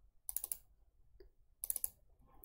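Two short bursts of clicky keystrokes on a computer keyboard while typing commands into gnuplot in a terminal, close and quiet with a pause between them.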